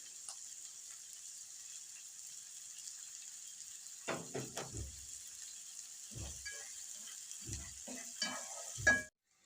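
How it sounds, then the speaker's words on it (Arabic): Gizzards, liver and onion sauté in a pan: a faint steady sizzle with several clustered bursts of stirring and scraping in the second half, ending on a sharp knock. "هشوحها مع البصلة وهنزل بالكبدة وبعد كده الفريك"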